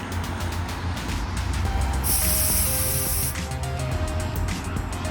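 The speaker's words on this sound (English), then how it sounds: "From this small hole you will see the white vapor, the propane vapor" Propane vapor hisses steadily from the bleed nozzle of a refillable 1 lb Fuel Keg tank being filled from a 20 lb tank, a bright sustained burst lasting over a second against a constant low background.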